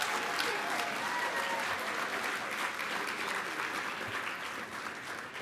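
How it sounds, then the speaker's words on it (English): Sustained applause from a conference audience honoring the Portland Police Department, a dense wash of many hands clapping at an even level throughout, with no one speaking over it. "let's give them some applause, please"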